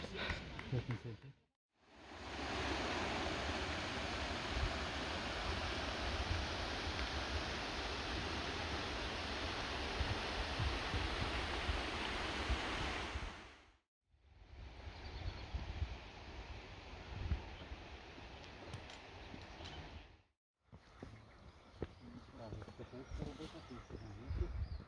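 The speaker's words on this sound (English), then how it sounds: "So here I am on Łomniczka waterfall, which is such a magnificent place with beautiful view." Łomniczka waterfall in the Karkonosze mountains pours with a dense, steady rushing roar, close and unbroken apart from two brief cuts, its wash continuing through the final stretch.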